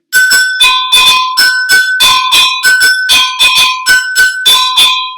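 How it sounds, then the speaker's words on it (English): Agogo bells are struck in a steady, lively Latin percussion pattern, bright metallic clanks alternating between two pitches, close and loud, with no voices. "Is there anything in your house you think can match the agogo bells?"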